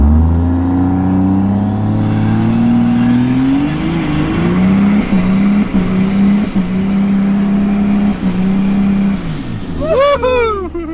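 A 650 hp LB7 Duramax diesel truck accelerates hard, its deep engine roar rising through gear changes while a high turbo whistle climbs and holds above it, then tapers as the throttle lifts, with voices faintly in the background.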